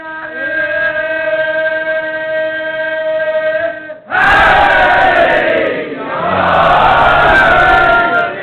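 A large crowd at a religious celebration roars a loud, rhythmic chant in unison, shouting two surging bursts together after a stretch of sustained, tonal vocal calling, the massed voices close and overpowering.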